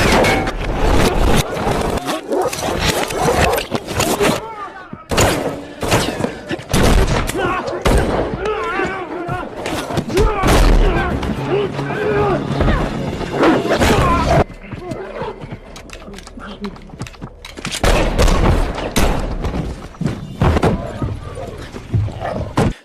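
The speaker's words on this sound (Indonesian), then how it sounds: "mereka berdua pun terlibat baku tembak dengan anak buah si pria" A shootout in the film John Wick: Chapter 4 crackles with bursts of gunshots and loud impacts, broken by short quieter gaps, with voices heard among the action.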